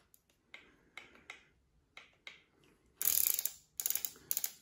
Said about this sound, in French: Vous entendez comment il tourne beaucoup mieux que sur l'autre Remington.